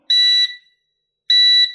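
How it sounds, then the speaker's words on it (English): Two loud, high-pitched electronic beeps, each about a third of a second, sound close by with a pause between them as a JJRC H31 RC quadcopter pairs with its remote. "You'll hear those 2 beeps."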